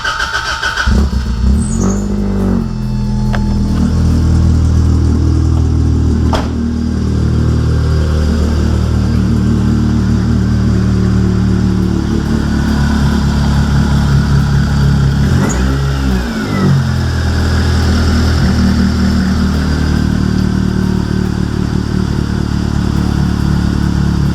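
A Toyota AE86 drift-build engine cranks briefly, catches and settles into a steady, loud idle close by, with a short dip and recovery partway through and no talking over it.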